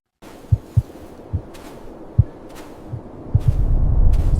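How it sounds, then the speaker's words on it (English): A soft, repeated thump of a heartbeat sound effect, about seven low pulses at an irregular pace over a faint hum that swells toward the end, with no talking. "It's got a little heartbeat sound wave there."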